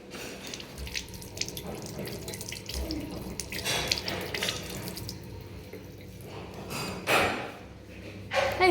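Water runs steadily from a tap as dates are rinsed at a kitchen sink, with splashing and shifting flow, a few knocks and bursts of louder gushing over several seconds.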